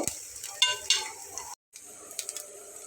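Potato and flour snacks frying in a little hot oil, a soft steady sizzle with clinks and stirring scrapes of a utensil in the pan, briefly cut off by a gap of silence before the frying resumes.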